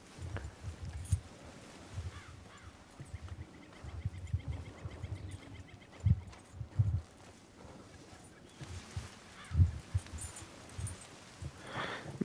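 Horse hooves walking in Red Dead Redemption 2, soft irregular clip-clop thuds spaced across the span, faint and quiet against light ambient birdsong.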